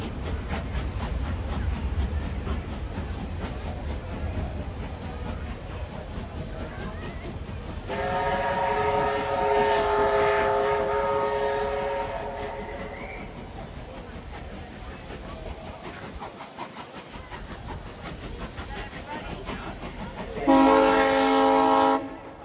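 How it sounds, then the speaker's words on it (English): Steam locomotive 3526 pulls away with a passenger train at the Hunter Valley Steamfest in New South Wales, with a steady rumble of rail movement and two loud, sustained whistle blasts, one mid-clip and a shorter one near the end. "3526 now departs with its passengers on its first trip to Paterson."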